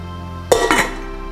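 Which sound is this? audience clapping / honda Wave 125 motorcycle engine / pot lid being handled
pot lid being handled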